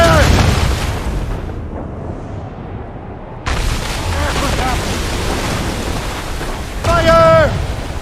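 Ship cannon fire during a naval battle in Assassin's Creed Rogue: loud booming blasts with a sharp burst near the middle, sustained rumbling battle noise, and shouting voices over the din.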